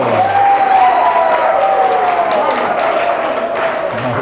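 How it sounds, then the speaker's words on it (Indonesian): Audience applause in a university lecture hall during an Indonesian-language course, a steady wash of clapping sustained for about four seconds with voices mixed in underneath. "Kita beri tepuk tangan dulu"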